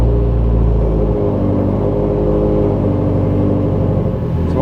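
A car engine rumbling close and loud on its first drive, with a steady low drone whose pitch shifts after about a second as it revs and moves off, alone and with no talk.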